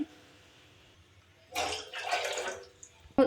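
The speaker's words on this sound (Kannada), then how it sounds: "ಈ ಗ್ಲಾಸಿಂದ 2 ಗ್ಲಾಸ್ ನೀರು ಹಾಕ್ತೆ." Two glasses of water are poured from a glass into a pot on a gas stove. Each pour is a short splashing burst, close by, after a near-silent start.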